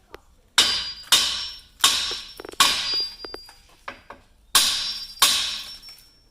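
A hammer strikes the front strut of a 2017 Ford Escape seven times at an uneven, unhurried pace, each sharp ringing clang trailing off before the next blow.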